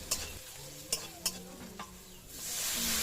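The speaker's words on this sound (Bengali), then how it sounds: "আদা ও টমেটো ভাজা হয়ে গেলে 2 চামচ কাশ্মীরি লঙ্কা গুঁড়ো দিয়ে দেব।" Ginger paste and chopped tomatoes frying in a pan, a soft steady sizzle broken by a few sharp scrapes of a spoon stirring, quiet and close, with no voices.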